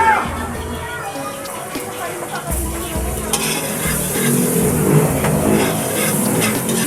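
Onion sizzles in a hot pan while a utensil stirs and scrapes through it in bursts, the frying growing louder and fuller toward the end, with a voice speaking now and then.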